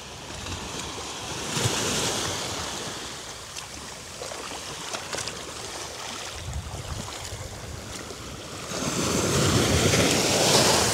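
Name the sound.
ocean waves at Bonaire shore dive entry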